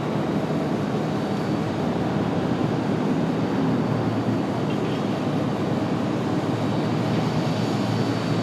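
A Boeing 737 MAX jet departs Raleigh-Durham airport for Reykjavik with a steady, broad engine roar. The sound stays constant and fairly loud from a distance throughout, with no voices.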